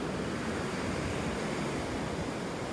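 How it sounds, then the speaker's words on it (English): Ocean waves wash steadily onto a beach in North Naples, Florida, a continuous broad roar of surf with no distinct breaks, close and fairly loud, mixed with some wind rumble. "Once these waves subside and we get back to our normal tides,"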